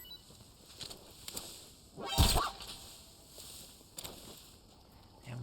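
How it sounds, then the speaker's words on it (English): A dog in the video game Metal Gear Solid 3 Delta gives one sharp, loud bark partway through, with a few fainter yips and background game ambience around it and no talking. "Damn, those dogs, they just wake up so quickly."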